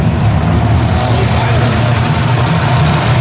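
An LS1 V8 engine swapped into a Nissan 240SX idles with a steady low rumble, loud and close, running evenly throughout.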